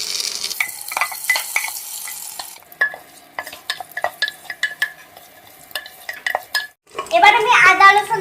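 Chopped onion and potato fry and get stirred in a pan for a mung dal and vegetable khichuri, giving sizzling with repeated scraping and clinking strokes close by, then a louder burst of crackling frying near the end.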